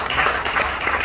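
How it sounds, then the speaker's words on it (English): A church congregation claps together during a wedding-day sermon by an Evangel Ministries Uganda bishop, a brief burst of steady, moderately loud applause from many hands. "Let's clap ourselves."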